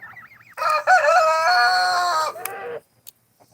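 A rooster crows loudly and close by in one long drawn-out call, followed by a brief cluck and faint scattered bird sounds, among backyard geese and chickens.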